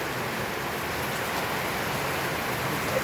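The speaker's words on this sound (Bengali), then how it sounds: "এই হচ্ছে বর্তমান অবস্থা বৃষ্টি কোপা বৃষ্টি" Heavy rain pours down at Sajek, Bangladesh, in a steady, dense hiss that fills the whole clip without letup, close and loud.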